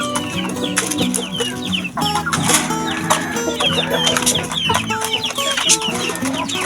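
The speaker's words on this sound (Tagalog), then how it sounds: "mga manok, kamanok, magbigay tayo ng patuka sa aking mga munting alaga mga kamanok" Shamo chickens cluck busily and close by, with overlapping calls and short squawks forming a constant farmyard chatter, and an occasional rooster crow mixed in.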